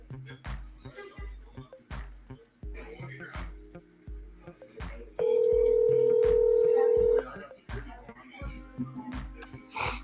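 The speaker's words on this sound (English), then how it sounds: "Let's see if we can get him on the phone here." Telephone ringback tone sounding once as a long steady burst while a call is placed, clear and loud in the middle of the clip, with background music and talk around it.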